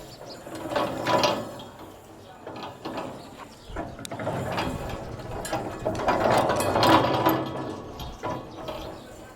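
A mini lift concrete mixer machine runs with a rattling, clanking mechanical churn, ratchet-like knocks and gear noise rising and falling in uneven bursts.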